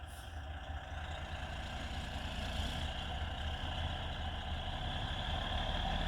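A loaded big rig with a Detroit diesel idles in a low, steady rumble that builds slightly louder toward the end, with no other sound competing.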